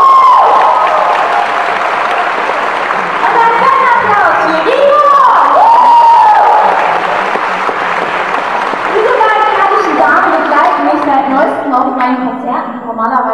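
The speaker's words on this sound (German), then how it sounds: "Ein fetter Applaus für Sweet Tobiko!" A live stage audience at the Connichi 2013 anime convention applauds and cheers for a cosplay dance group; dense clapping runs throughout with whoops and shouts rising above it, while a voice speaks over the crowd.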